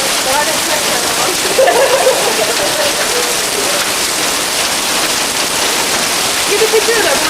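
A heavy rain and hail storm roars as a dense, continuous wash of pounding drops and splatter, loud and close throughout, during a 1998 late winter storm.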